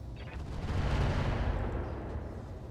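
A Longbow mech fires its weapons in the RogueTech mod of BattleTech, a heavy, rolling barrage of booms and impacts that builds to a peak and then rumbles away. No voices are present.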